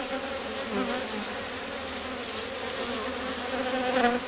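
Honeybees in an opened Rose hive colony, a dense continuous buzzing hum that stays steady and close throughout with no talking.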